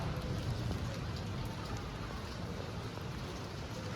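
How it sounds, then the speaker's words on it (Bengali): Heavy rain pours steadily outside during a storm, a dense continuous wash of falling water close by with no voices. "বাইরে খুব ঝড় হচ্ছে"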